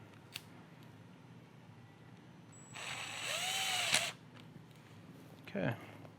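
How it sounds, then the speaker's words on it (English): Power driver spins a Phillips head screw into a paintball marker receiver, a brief whirring burst of about a second near the middle, up close among quiet handling noises and a voice nearby. "Go ahead and flip our receiver over and put our Phillips head screw back into place"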